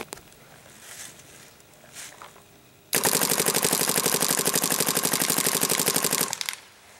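A 2011 or 2012 Bob Long G6R paintball marker fires a fast burst of rapid, evenly spaced shots for about three seconds, loud and close, after quieter handling noises.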